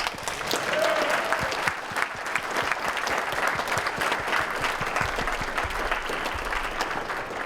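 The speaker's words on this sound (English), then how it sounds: "Go ahead and applaud." A lecture audience at BronyCon claps together in sustained, dense applause that stays at an even level for the whole stretch, with no one speaking over it.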